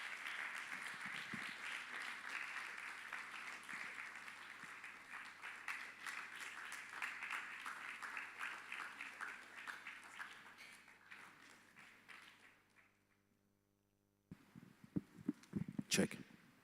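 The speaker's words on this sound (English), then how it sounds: "Please clap him, please" An audience at the MUSON Festival in Lagos claps steadily as a guest is welcomed on stage. The applause slowly thins and fades into near silence, then a few louder handling knocks and bumps follow close by.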